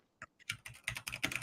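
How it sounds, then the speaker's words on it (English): Keys on a computer keyboard are tapped in quick, uneven bursts close to the mic, starting sparse and building into steady fast typing with no voices. "Tell me if you can hear me typing when I type this."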